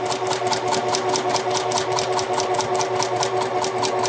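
A sewing machine stitching over a skirt dart at the seam allowance, running at a fast, steady rhythmic clatter close up, with no talking.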